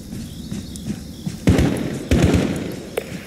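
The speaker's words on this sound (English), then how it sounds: "Shot fired." Gunfire in Call of Duty Modern Warfare during a dark, stealthy night mission, with two sharp loud blasts and a smaller crack over low rumbling ambience and faint footstep-like shuffles.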